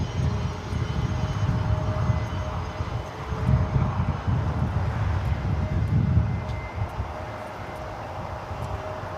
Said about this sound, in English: This Gulfstream G450 is coming in from Denver Centennial Airport